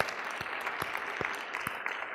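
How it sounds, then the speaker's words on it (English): A room of attendees at a Beta Gamma Sigma leadership summit applauds, a soft, steady spread of clapping with a few sharper individual claps, somewhat distant and fairly faint. "I would like to give a round of applause to Chris and Denise"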